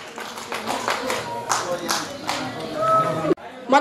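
An audience at a Nepali folk duet song awards final claps for a singer, scattered bursts of clapping mixed with crowd noise and some voices, rising toward the end before a sudden cut.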